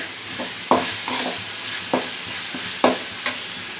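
Onions sautéing in a pan for a spicy fish curry, a steady close sizzle broken by several sharp scrapes of a stirring spoon.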